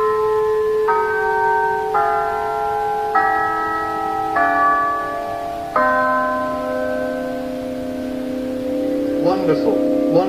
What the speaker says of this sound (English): I can sound six of them if you like, so you can hear the difference.